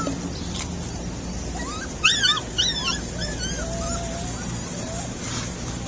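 Puppies being fed whimper and yip in a quick high-pitched cluster, followed by a couple of thin drawn-out whines over a steady background hum.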